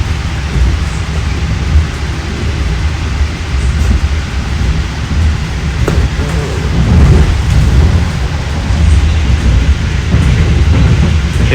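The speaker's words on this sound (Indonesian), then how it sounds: "ini kereta api Bima itu 120 km per jam ya, kecepatannya" The Bima passenger train runs at about 120 km per hour, a loud continuous low roar and rumble of wheels on rail, steady throughout with slight swells and no talk.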